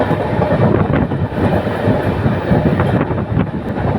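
Banalata Express on the Dhaka to Rajshahi line crosses the Jamuna rail bridge at high speed, its wheels clattering in a dense, loud, close rumble with steady rhythmic clacks.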